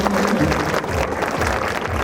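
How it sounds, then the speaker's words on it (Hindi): Dense, steady applause from an audience at a school Independence Day program, honoring the principal; loud, continuous clapping filling the space without pause. "एक जोरदार तालियां हमारे प्रिंसिपल सर के लिए"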